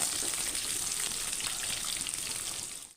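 Onions frying in a pan for tomato biryani, a steady close crackling sizzle like light rain that holds even throughout before cutting off abruptly at the end.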